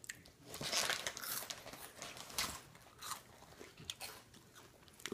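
Crunchy chips being bitten and chewed during an eating challenge, close crackling crunches in irregular bursts, loudest near the start, then tapering into softer chewing without speech.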